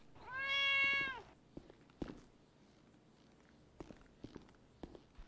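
In GTA5, a cat lets out one loud, sustained meow, then soft footsteps patter irregularly and sparsely across an otherwise quiet scene.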